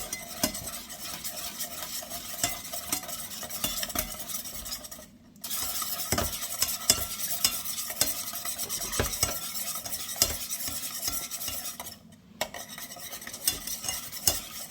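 A whisk beats rapidly against the inside of a metal saucepan, whisking a béarnaise sabayon, in a fast, steady scraping rhythm, pausing twice briefly before continuing.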